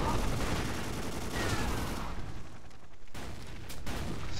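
Turret gunfire in the blocky multiplayer shooter Ace of Spades: a dense, continuous fusillade of rapid shots, fairly loud and close, easing briefly before bursts resume near the end.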